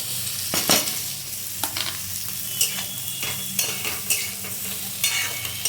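Capsicum, beans and carrot stir-fry in a hot pan, a continuous sizzle broken by sharp, repeated scraping and tossing strokes of a spatula at irregular intervals, close by and unaccompanied by speech.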